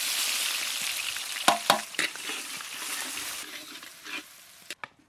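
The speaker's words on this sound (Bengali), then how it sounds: "আমরা এখন ডালে ফোড়ন দেব শুকনো লঙ্কা, তেজপাতা আর গোটা জিরে" Dry red chilies, bay leaf and whole cumin tempering in hot mustard oil in a kadai make a steady, close frying hiss, broken by a few sharp crackles and spoon scrapes toward the end.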